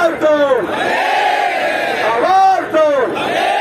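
Protest crowd at a contract workers' rally and march chanting slogans in unison, loud and close, with a lead voice calling and rhythmic shouted responses rising and falling across the moment.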